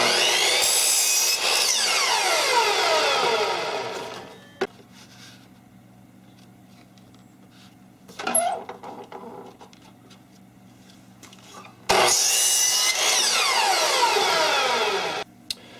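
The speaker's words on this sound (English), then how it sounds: "next I'm going to cut two 24-inch pieces for the sides" A power saw cuts 24-inch wooden side pieces for a herb-growing light stand. Two loud, sustained cuts are separated by a quiet pause with light handling clatter, each cut ending abruptly.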